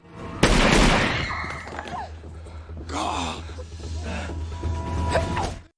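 A single sharp, loud gunshot in the action film The Saint, as Simon fires at Marius's arm during a hostage standoff. It is followed by crackling debris, a low steady rumble and scattered clatters, with faint muffled voices later on.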